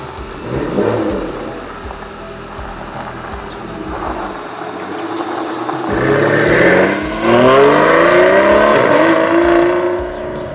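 A 2015 Aston Martin Vanquish engine hums at low speed, then revs harder and accelerates through rising gear sweeps, loud and close, with a throaty growl.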